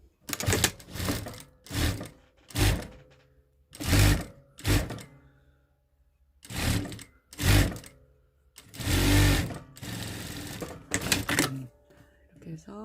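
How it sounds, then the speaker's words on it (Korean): A sewing machine stitches a fabric KF94-style face mask in repeated short whirring bursts, each a few seconds long, loud and close, with a voice speaking intermittently in between. "이렇게 해서 지금 박음질 해주고, 이런 모양으로 지금 박음질을 완성을 해놨어요"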